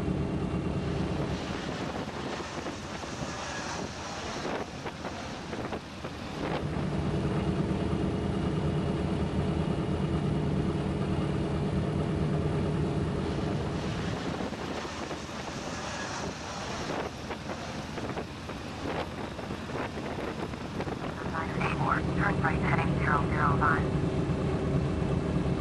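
A Yak-18T light aircraft's engine drones while taxiing, a steady mid-low roar that swells and eases, with wind buffeting the microphone and radio voices talking over it.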